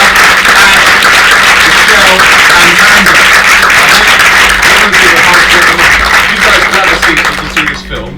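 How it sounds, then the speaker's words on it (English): Sustained, loud audience applause at a film event fills the space with dense, steady clapping and cheering before tapering off near the end. "can you make a massive round of applause"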